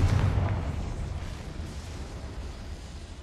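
A Confringo blasting spell from Hogwarts Legacy bursts in a deep, booming explosion that decays into a low rumbling tail over a few seconds, with no talk over it.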